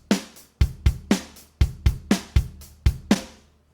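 A programmed drum beat with kick and snare hits, open hi-hats cut off by closed hi-hats, a steady moderate groove that plays alone and stops after a few bars.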